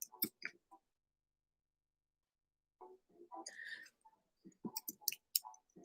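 Scattered clicks of typing on a keyboard, a few quick taps at the start, then a long pause and a denser run of keystrokes, close up and fairly quiet, with no voice.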